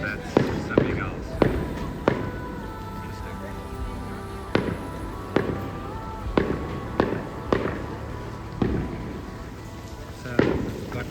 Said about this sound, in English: I come out to some funky fireworks